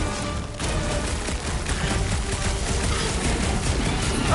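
Dense, continuous gunfire and explosive booms from a chaotic firefight in the action game Guardians of the Galaxy, loud and sustained throughout with no pauses and no voices.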